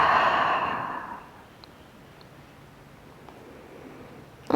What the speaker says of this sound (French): Et on expire, relâche toutes les tensions.